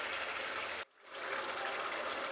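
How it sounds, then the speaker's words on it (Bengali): Cauliflower korma gravy simmers in a pan over medium heat with a steady, close hiss and bubbling. A brief dropout near the first second breaks it before it resumes. "এটাকে কিন্তু এবারে জাস্ট 2-3 মিনিট আমরা ফুটিয়ে নেব।"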